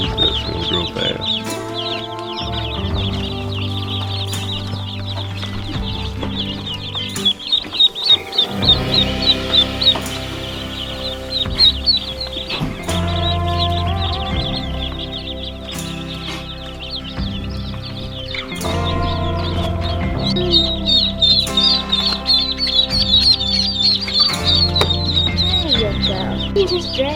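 Chicks and ducklings peep constantly in a brooder, a dense, high chorus close by, over a bed of steady background music.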